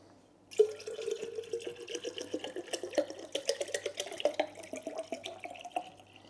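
Water runs and splashes quietly as a container is washed, with soft gurgling and small clinks close by, and no voices.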